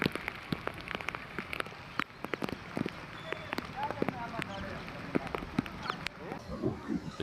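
Heavy rain in the Girnar forest region of Junagadh, a soft, steady patter of drops striking surfaces with sharp nearby plinks, heard fairly faintly with a voice talking faintly in the background.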